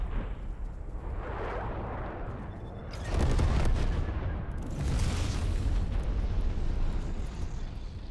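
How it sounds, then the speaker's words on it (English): A napalm strike in the video game Call of Duty Black Ops Cold War, heard as a rumbling roar that swells and then bursts into two heavy explosive blasts with crackling fire and a long rolling tail, loud and alone. "Enemy napalm strike incoming."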